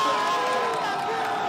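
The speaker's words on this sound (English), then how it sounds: "The crowd wants the 10." Surf contest crowd at the VIVO Rio Pro heat, a steady dense roar of cheering and whoops from a large beach audience, continuous and loud throughout with no pauses.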